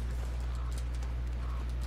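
Horse hooves clip-clopping at a steady trot in Red Dead Redemption 2, faint rhythmic hoofbeats over a low, constant background hum.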